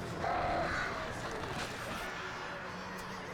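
Crows caw in the Alan Wake video game, a few harsh calls near the start over dense, noisy game ambience, with a voice speaking.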